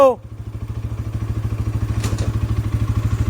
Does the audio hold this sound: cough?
no